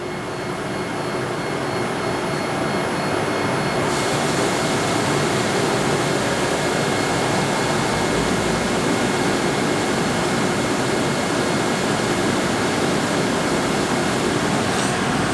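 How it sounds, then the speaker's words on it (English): A Kern CNC mill cuts parts with coolant flowing, giving a steady, loud broadband machining roar with a constant spray-like hiss that runs unbroken throughout, with no voices. "I'm gonna turn on the coolant maybe now, and then I'll see if there's a surface finish difference"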